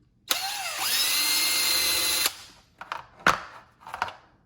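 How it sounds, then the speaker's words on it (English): An electric drill whirs loudly for about two seconds while drilling small holes in a plastic lid, its pitch dipping briefly as it bites, then stops, followed by a few light clicks and taps. "I'm going to demonstrate with my drill first."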